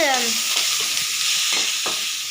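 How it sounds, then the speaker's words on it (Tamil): Onions frying in a pan for a Tamil raw-mango pachadi, a steady close sizzle with a few soft scrapes of a spoon stirring through them, no talk. "இதுமாதிரி நல்லா வெங்காயம் வதங்கணும்"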